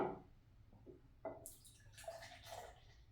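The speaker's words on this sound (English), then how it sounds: "And let me pour this up." Amber Ale craft beer pours into a glass with a soft gurgling splash and trickle that swells into fizzy foaming, quiet and close with no talking.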